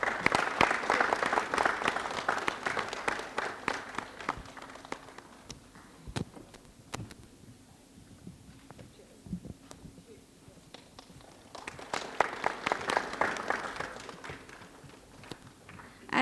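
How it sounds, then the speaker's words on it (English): A conference audience at a DevOps summit bursts into applause that fades away, falls quiet with scattered claps, then swells again near the end. "Let's have a big round of applause, everyone."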